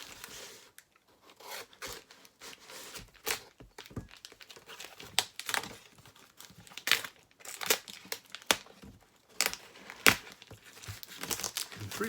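Packing tape peeled and torn from a cardboard shipping box holding Golden Age comics, in a string of close crinkly rips and crackles with short quiet gaps, no voice.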